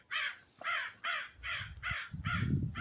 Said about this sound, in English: freaking birds fighting